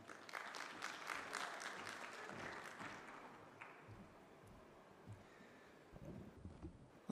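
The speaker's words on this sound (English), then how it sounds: "Under your applause, please." A conference audience at a water-systems session applauds a speaker coming to the floor, dense clapping strongest at first, then thinning and fading to a few scattered claps before a pause.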